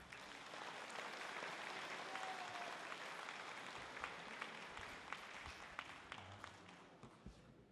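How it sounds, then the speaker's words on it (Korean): Sustained audience applause fills a church assembly hall as a pastor is welcomed to the stage at a national elders' conference, a dense steady wash of clapping with a few sharper individual claps standing out near the end. "이제 목사님께서 나오실 때 뜨거운 박수로 환영해 주시기 바랍니다"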